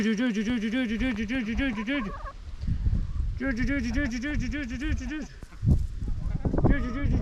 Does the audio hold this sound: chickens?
yes